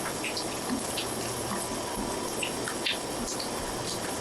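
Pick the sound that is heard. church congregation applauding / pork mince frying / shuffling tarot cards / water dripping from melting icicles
water dripping from melting icicles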